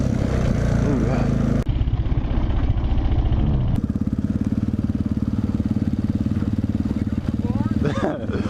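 A dirt bike engine running steadily and close by, with a low buzzing drone throughout and a change in pitch partway through, while people talk over it.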